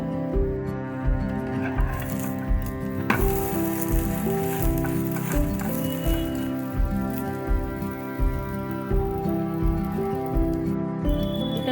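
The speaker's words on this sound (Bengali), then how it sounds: "তেল দেব খুবই সামান্য এইভাবে বাকিগুলো ভেজে নেব আমি" A vegetarian snack fries in a small amount of oil with a loud, continuous crackling sizzle and rain-like pattering close by, over a faint steady tonal hum.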